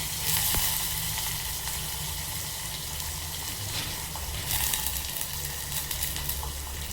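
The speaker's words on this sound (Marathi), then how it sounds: "आता हा कांदा आपण चांगला भाजून घ्यायचा आहे" Onion frying in a pan for a ridge gourd and potato bhaji, a steady close sizzle with faint watery bubbling and occasional light stirring, no voices.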